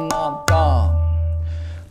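A tabla played close and alone: two sharp ringing strikes followed by a deep bass stroke that bends and sustains, fading over about a second and a half.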